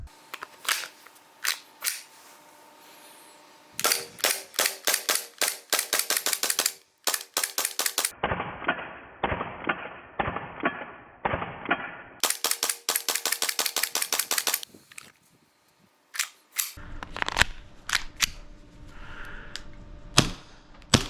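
An airsoft pistol sidearm fires in a shooting test, with sharp snapping shots in rapid strings and scattered singles, some volleys faster and denser, close and loud throughout with brief pauses between bursts.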